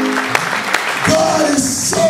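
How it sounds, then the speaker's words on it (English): A church congregation claps their hands in a brief burst of scattered claps that thickens into a short patter, with a voice speaking over it. "if you believe that God is good, clap your hand."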